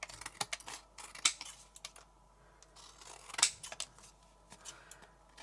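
Scissors snipping through card pieces from an Art Deco card kit, a series of close, crisp irregular cuts with quiet pauses between them.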